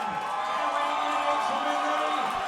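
Boxing arena crowd cheering and whooping for a fighter's introduction, a steady loud roar of many voices that holds throughout.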